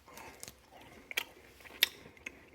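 Close-up bites and chewing of HEB pumpkin spice hayride bacon, a few crisp crunches spaced across a quiet moment, soft and near.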